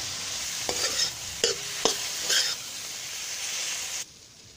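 Steady sizzling of tomatoes frying in a pan, with a few soft scraping strokes of a spoon stirring, then the sizzle drops off abruptly near the end.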